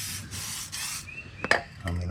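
Short hissing bursts of WD-40 spray applied to a lawnmower, with brief rubbing and handling noises between them and a low background hum.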